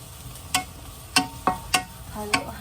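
Onion fries in a hot frying pan, a low sizzle under sharp, spaced clinks of stirring against the pan, about five distinct knocks over a few seconds.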